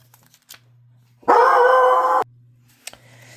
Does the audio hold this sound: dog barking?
yes